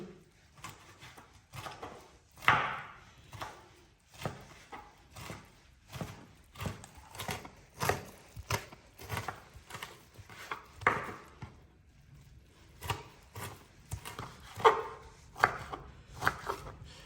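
A knife chopping tomatoes on a board for sauce, steady close rhythmic thuds repeating about twice a second with short pauses, no talking.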